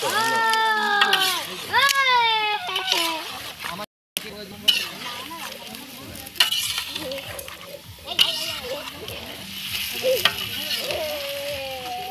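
Desi chicken frying in a pan in a West Bengal village is stirred, giving a steady sizzle and scraping under loud, close conversation.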